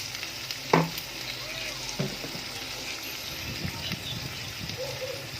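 String beans sizzle in a hot pan for adobong sitaw, a soft steady frying hiss broken by a couple of utensil clunks and stirring scrapes.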